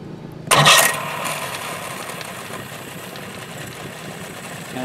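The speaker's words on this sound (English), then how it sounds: "Okay, I'm going to hit the starter." A Mercury outboard motor cranked on its electric starter catches with a sharp burst, then settles into a steady, fairly loud idle that drones on evenly, with no one speaking.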